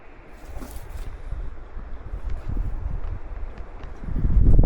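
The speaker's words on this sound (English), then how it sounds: "See how strong the wind's blowing." Strong wind blows across open fields and trails, a rough low rumbling roar of gusts against the microphone that builds and grows loudest at the end.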